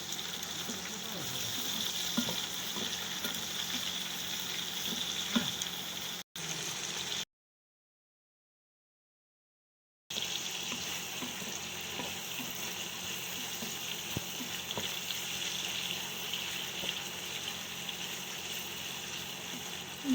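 Onion and chicken frying lightly in a pan, a soft steady sizzle with faint stirring and occasional small clicks, continuing on both sides of a brief silent gap.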